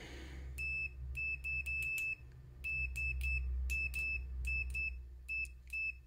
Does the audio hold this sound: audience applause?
no